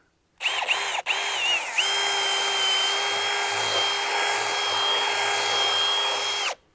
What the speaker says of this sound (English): I like to do a little countersinking.